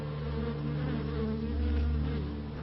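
Honey bees swarm around a beehive in the Romanian Carpathians, making a dense, continuous, close buzzing hum that holds steady throughout with no voices.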